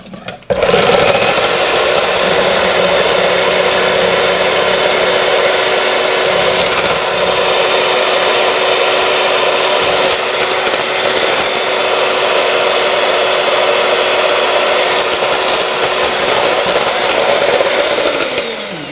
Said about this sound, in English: Just beat it till it's frothy.